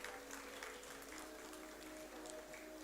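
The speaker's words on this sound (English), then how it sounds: "Please give them a huge round of applause." A conference audience gives steady applause at an award announcement, a dense, continuous wash of clapping heard from some distance at low level.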